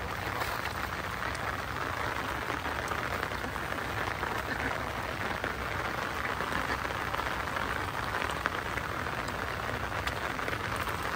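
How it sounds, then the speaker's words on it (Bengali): Steady rain falls without pause, a dense, even hiss of drops that stays at one level for the whole stretch, with nothing else standing out. "টিপ টিপ বৃষ্টি ঝরছে অঝরে আজ সারাদিন ধরে"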